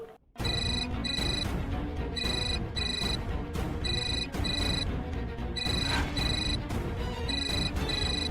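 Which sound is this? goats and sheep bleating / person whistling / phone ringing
phone ringing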